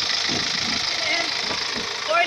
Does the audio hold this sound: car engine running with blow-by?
yes